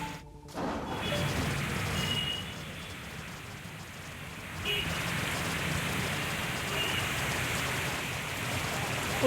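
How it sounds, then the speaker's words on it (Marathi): Heavy, continuous monsoon rain in Mumbai, a dense steady hiss of downpour that runs throughout, with a brief sharp knock near the start. "पावसाची संततधार सुरू आहे"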